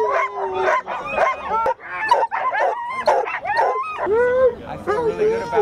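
Many sled dogs at the Iditarod race bark, yip and whine excitedly all at once before setting off, a dense, loud chorus of overlapping high calls.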